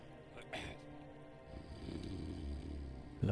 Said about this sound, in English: Drunken snoring.